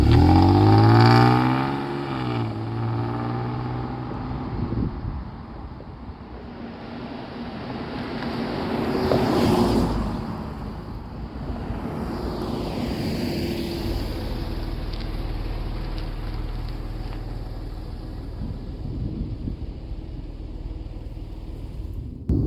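A car with a Jaguar Land Rover 3.0L V6 AJ126 engine, just repaired, drives off with a rising rev at the start, then a steady engine drone and road and wind noise that swells and settles.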